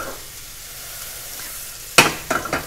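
Courgettes land in melted butter in a pan, a soft background hiss giving way to a sudden sharp sizzle burst, followed by two or three shorter crackling flare-ups as they are stirred.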